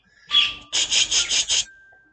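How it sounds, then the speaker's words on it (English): A noisy bird calling in the background outdoors, a rough whistled call followed by a rapid run of five quick chirping pulses, fairly clear with no talk over it. "that bird is very noisy back there"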